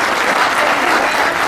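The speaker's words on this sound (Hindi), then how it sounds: "एक बार जोरदार ताली बजाइए" Loud, dense applause from the audience at a Republic Day kavi sammelan (Hindi poetry gathering) in Nand Gram, Ghaziabad, steady and sustained throughout with no voices above it.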